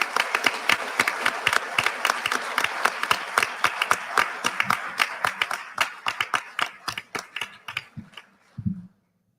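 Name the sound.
applause for award recipients at a dinner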